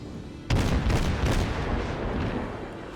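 Heavy naval gun salvo in World of Warships, a sudden loud boom that sets off a dense rumbling barrage of gunfire, with several further blasts rolling on over about two and a half seconds, no talk.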